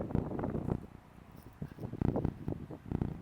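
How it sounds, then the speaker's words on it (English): Wind gusts buffet a microphone outdoors in low, uneven rumbling bursts that swell and fade over a few seconds, loud and close with no other sound. "I apologize right now for this giant wind gust that you can probably hear over my voice."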